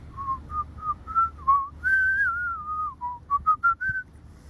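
Someone whistles a wandering melody alone, a clear pure tone sliding up and down, ending in a few short quick notes.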